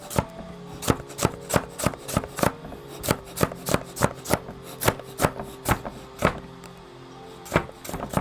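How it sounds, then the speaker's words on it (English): A knife dices carrots on a cutting board in a steady run of crisp, close chops, roughly twenty evenly spaced strikes with a short pause near the end. "So now you guys get to hear how dicing carrots sound like."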